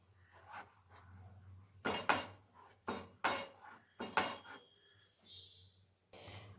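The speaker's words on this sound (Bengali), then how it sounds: "এখন আঁচ কমিয়ে আমি খুব ভালো মতন দুধটাকে নাড়িয়ে দিচ্ছি।" Milk being stirred in a pot for sandesh, with irregular metallic clinks and scrapes of a spoon against the pot, several sharp close knocks spaced unevenly over a low quiet background, without speech.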